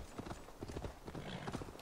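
A horse gallops in Assassin's Creed Valhalla, its rapid rhythmic hoofbeats thudding close and clear in a quick, steady clip-clop, with no talk over them.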